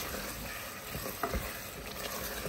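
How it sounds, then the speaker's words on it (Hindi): Goat brain frying with onions in a pan, a steady low sizzle with a few stirring scrapes and one thump midway, close and continuous with no talking. "अभी हम इसको इसके साथ भून लेंगे थोड़ा सा।"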